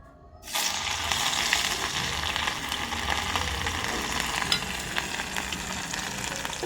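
Chili and ginger-garlic paste hits hot oil with tempering spices and bay leaf, bursting into a loud, steady sizzle after a brief quiet start and frying continuously up close.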